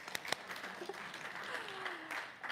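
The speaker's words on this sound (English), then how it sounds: "let's give her a round of applause for coming." Applause at a talk gathering, fairly faint and distant, with a few sharper claps near the start and a thin, steady patter of clapping beneath a soft voice.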